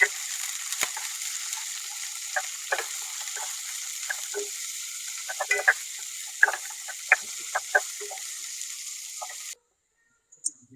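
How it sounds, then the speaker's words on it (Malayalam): Sliced onion sautéing with ginger, garlic and green chili in a pan for potato masala, a steady close sizzle with scattered pops and stirring scrapes, continuing without talk before stopping abruptly near the end. "ഉള്ളിയൊക്കെ നന്നായിട്ടൊന്ന് വഴണ്ടി വന്നിട്ടുണ്ട്."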